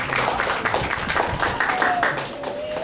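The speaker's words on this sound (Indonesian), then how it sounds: "Mari berikan tepuk tangan sekali lagi untuk anak siswa." Audience claps for schoolchildren performing at a church Christmas event, a moderate steady patter of applause with some voices and crowd murmur mixed in.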